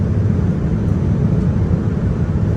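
Steady, loud low-pitched cabin roar inside an ANA Boeing 787-9 descending toward Bangkok from Tokyo Haneda, a constant engine and airflow rumble with no talk.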